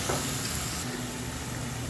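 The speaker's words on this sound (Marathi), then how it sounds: "थोडा कांदा परतून घ्या." Onion sautés in a pan, giving a short burst of dense, even sizzling with a soft hiss, close by and without speech.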